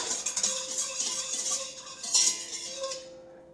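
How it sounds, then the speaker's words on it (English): A utensil scrapes and clinks steadily against a mixing bowl as yeast and sugar are stirred for Italian bread dough, with no voices. "I'm going to give that a good mix"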